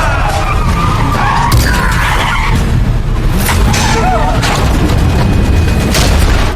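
A car is wrecked in a film action scene, with tires skidding, loud crashing impacts and a roaring engine, all sustained and loud throughout, while brief speech and dramatic music sit underneath.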